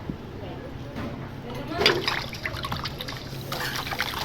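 Raw fish get washed by hand in water, with soft splashing and trickling, a brief louder splash midway, and someone talking over it.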